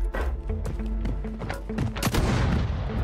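Decoy grenade in Call of Duty: Warzone mimicking gunfire: rapid bursts of automatic shots crackle steadily through the whole stretch, loud and close, with a heavier cluster of reports near the end and no talking.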